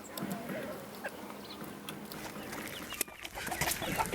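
Chickens on a rural farm in China, scattered soft clucks and short calls over a busy outdoor background, with a sharp knock near the end and the yard sounds growing slightly louder.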